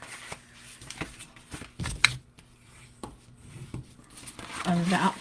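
Scored cardstock being folded for a double gatefold card, close crisp creasing and rustling sounds with short taps, under a person talking.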